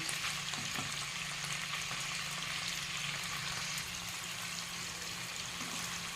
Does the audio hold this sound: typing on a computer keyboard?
no